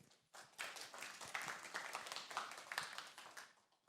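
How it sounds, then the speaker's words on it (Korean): Scattered applause from a small conference audience welcoming a speaker, faint and uneven, building briefly then tapering off over a few seconds. "여러분 큰 박수로 환영해 주십시오."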